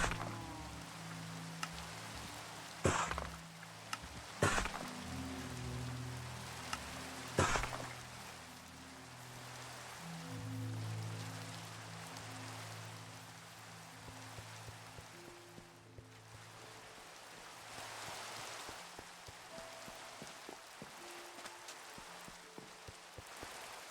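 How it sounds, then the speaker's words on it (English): Rain in the Minecraft video game falls as a steady hiss with scattered drips, soft and continuous, with occasional game sounds over it. "Run back, get this rain to clear up."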